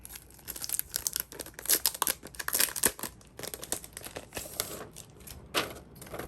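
Plastic Dollar Tree sticker packets crinkle and rustle as hands handle them close by. The crackly bursts come irregularly, separated by brief quiet gaps.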